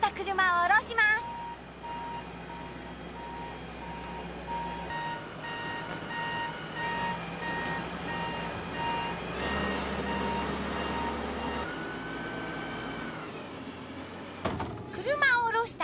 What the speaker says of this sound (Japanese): 乗せてきた車を降ろします。